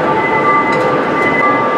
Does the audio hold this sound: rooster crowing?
no